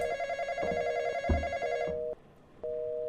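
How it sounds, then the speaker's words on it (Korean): A telephone rings in a horror video game, an electronic bell-like ring that repeats steadily before cutting out and then starting again, with a short thump partway through and no talking over it. "일단 전화 울리는 것부터 좀 끄고"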